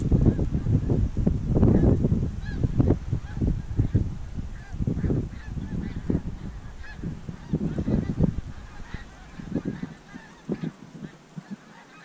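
A large flock of snow geese honks continuously over a hunting spread on the Eastern Shore, with dense overlapping calls from many birds, some close and loud, others farther off, plus a little wind.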